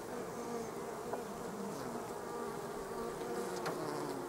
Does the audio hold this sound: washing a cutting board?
no